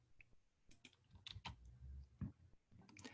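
Keys on a computer keyboard are pressed in irregular, fairly quiet clicks and taps during a maths conference workshop, with no talking.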